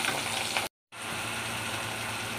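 Potatoes fry in hot oil with a steady, bright sizzle that cuts out briefly to silence before resuming just as strong and constant.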